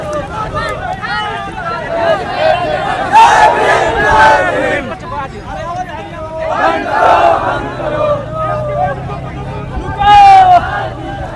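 A crowd of student protesters in the street in Buxar shouts slogans over the NEET paper issue, loud rhythmic chanting voices rising and falling in several waves against background hubbub.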